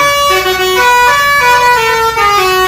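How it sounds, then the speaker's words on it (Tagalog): Newly installed vehicle horns sounding in a loud, continuous sound check, with the tones stepping down and shifting pitch several times across the burst, close and alone with no talk. "Tigka kaparasong sound check lang para maparinig lang natin sa mga Kabisyo natin yung mga in-install na busina."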